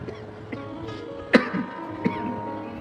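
A single sharp dry cough stands out near the middle, followed by a softer throat-clearing catch, heard close over a low steady room hum during a live religious katha recitation.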